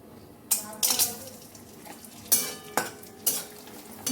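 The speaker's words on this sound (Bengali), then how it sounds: "এই পাপড়গুলো ভাজেই আর চা খাবো সবাই এখন চলো ভাজা শুরু করে" Triangular papad frying in hot oil in a home kitchen, with soft sizzling and a series of sharp scraping, stirring clatters from a utensil against the pan, close and fairly quiet.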